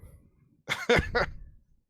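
A person coughs three times in quick succession, close and fairly loud, after a brief near-silence.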